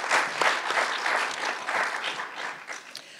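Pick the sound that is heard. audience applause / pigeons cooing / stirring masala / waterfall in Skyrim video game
audience applause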